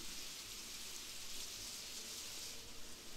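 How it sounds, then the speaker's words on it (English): Rain falls in the Graviteam Tactics Mius Front war game, a faint steady hiss without a break and no other sounds. "I love the sound of the rain."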